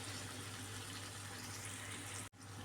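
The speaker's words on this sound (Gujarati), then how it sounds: "હવે આપણે એમાં બેથી અઢી ટેબલ સ્પૂન જેટલું પાણી એડ કરશું" Water is added to a hot pan of masala potatoes, producing a soft, steady hiss and sizzle that is quiet and close, broken by a brief dip near the end.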